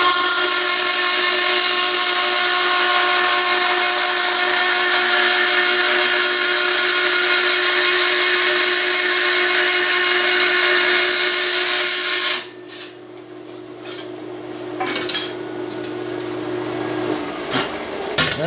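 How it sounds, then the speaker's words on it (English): A power saw cuts through wooden stock for stack blocks, a loud steady whine running for about twelve seconds, then stopping as the blade spins down, followed by softer knocks and handling noises of the workshop. "I'm sawing on the right side of the line, so we leave a full 1 5/8 for the parts."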